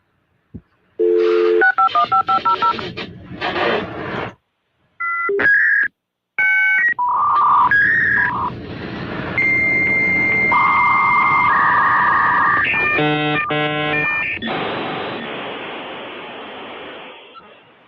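A dial-up modem connects to AOL: touch-tone dialing beeps, a pause, then screeching handshake tones, warbling pitches and a long hissing static burst, loud and up close.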